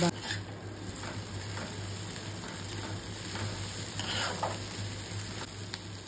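Ginger garlic paste frying in oil before chicken wings go in, a faint, even hiss that runs throughout with a few soft stirring scuffs and a thin electrical whine behind it.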